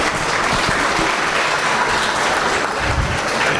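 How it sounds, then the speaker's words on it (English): A crowd at a beef cattle showmanship event applauds the young exhibitors, dense, steady clapping sustained evenly from start to finish with no talk over it. "Let's give them a round of applause for their efforts"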